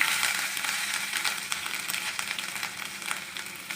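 Chopped ginger, chili, onion and curry leaves frying in hot oil give a steady, close sizzle with dense crackling and a few sharper pops, with no voices over it.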